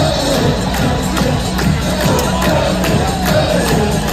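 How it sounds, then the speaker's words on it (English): A stadium crowd at a Union soccer match roars steadily and loudly, a dense wash of cheering and shouting with no breaks. "the crowd got pretty loud"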